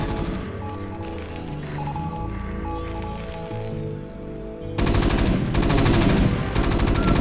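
Siege tanks and marines firing in StarCraft, rapid machine-gun chatter layered with heavy blasts, building into a dense loud volley near the end, with no talking.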